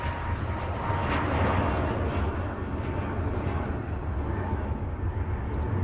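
A Ryanair Boeing 737 MAX 8 departs Manchester Airport with a loud, even jet rumble and roar that holds steady, heard nearby and alone.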